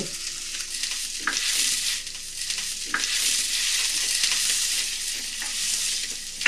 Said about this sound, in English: And saute it a little bit.